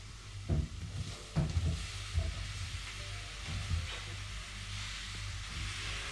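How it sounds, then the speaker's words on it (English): Sliced mushrooms drop into a pan of golden fried onions and sizzle, with a steady hiss plus a few louder scrapes and stirs near the start, fairly quiet and close, nobody speaking. "I'm gonna add in most of the mushrooms already"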